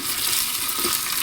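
Plantain kofta curry ingredients with ginger and garlic sauté in a hot pan, giving a steady close sizzle with faint stirring scrapes and no talking.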